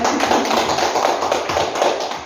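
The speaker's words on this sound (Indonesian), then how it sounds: "Berikan aplaus untuk tujuan." Audience applause during a school principal's vision and mission presentation, a dense, continuous patter of many hands clapping close by, loud and steady for a couple of seconds.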